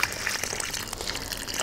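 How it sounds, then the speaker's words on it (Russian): Water pours from a watering can onto the soil around a freshly planted grapevine sapling, a short splashing gush with trickling. "поливаю водичкой"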